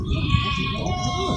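Sheep bleating at the livestock market in Simpang, Purwakarta, with a few drawn-out, wavering calls close by under steady market chatter and someone talking.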